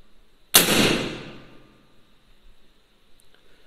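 A single sharp PCP air rifle shot with a smooth barrel, fired at around 230 bar, cracks out loudly and decays over about a second, followed by quiet.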